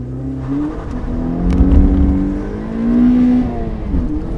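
A 2010 Mazda Miata PRHT hardtop accelerates hard nearby, its engine note climbing in pitch through two strong pulls with a brief dip between them as it changes gear.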